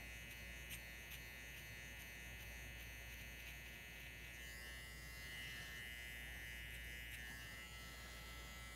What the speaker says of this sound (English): Look, I'll show you guys that trimmer trick again right here. So we'll take this trimmer